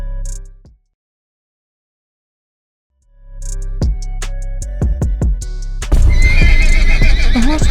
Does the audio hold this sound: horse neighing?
yes